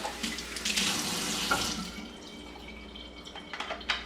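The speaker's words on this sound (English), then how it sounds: "Give it a good rinse." Tap water runs over a Philips LatteGo milk container as it is rinsed at a sink, a steady splashing stream that is loudest early on and tapers into lighter drips and trickles near the end.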